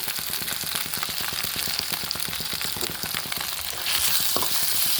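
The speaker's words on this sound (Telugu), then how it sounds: "ఇది ఆయిల్లో వేయించాలి ఈ ఆనియన్స్ వేయించడం అనుకోండి" Onions frying in hot oil give off a loud, steady sizzle with quick rhythmic scraping strokes of stirring throughout, the hiss swelling brighter near the end.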